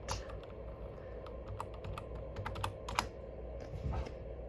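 Steady typing on a computer keyboard, a quiet run of irregular key clicks heard close by over a low room hum, with no talking.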